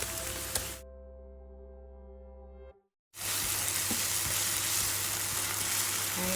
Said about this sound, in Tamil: அப்படி வெங்காயம் சேர்த்து சும்மா அப்படியே கோல்டன் ப்ரௌன் கலரில் அழகாக நம்ம வதக்கி எடுத்துக்கலாம்